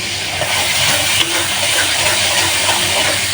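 Water poured into a hot pan of frying spices and chili, hissing loudly and steadily for a few seconds in one continuous, close steam burst.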